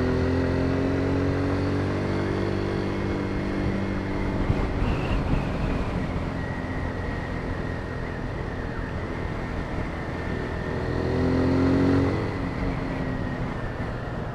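Kawasaki Z125 motorcycle being ridden, a continuous engine drone with rising and falling rev tones through gear changes and a swell near the end, steady and close with wind noise, no talking.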